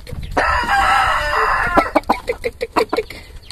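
A naked neck rooster crows loudly and close by in one long call, followed by a run of short, sharp clucks from the chickens around it.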